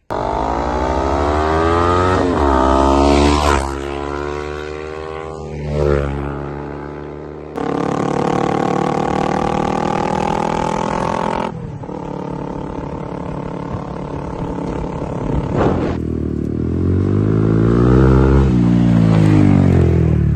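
A Kawasaki ER5 motorcycle rides a rural green lane, its engine revving up and down in repeated rising pulls with gear changes, loud and close throughout.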